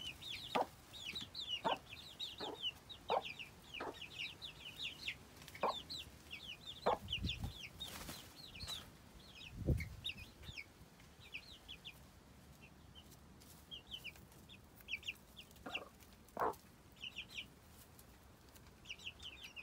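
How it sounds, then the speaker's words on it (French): Hens cluck softly to their chicks in a backyard coop, with repeated low clucks and the high, thin peeping of chicks scattered throughout, close and fairly quiet. "Les poules deviennent câlines quand elles ont des petits."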